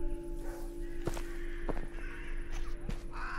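Crows caw in the video game DarKnot, several sharp scattered calls heard fairly close over a steady humming background tone.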